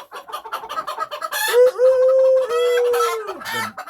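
A crossbred red jungle fowl rooster crows once, close and loud, a rising call that holds a long strained note with a brief break before trailing off, preceded by a few softer clucks.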